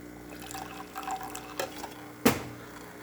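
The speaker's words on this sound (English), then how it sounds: "Good water flow coming out of the machine." Water flowing from a Saeco espresso machine during a test shot after a tune-up, a soft close trickle with faint drips and a sharp clack near the end, with no talk.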